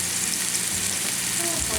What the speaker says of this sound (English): I got some butter melting in the pan. I'm going to go ahead and put in the onions and peppers.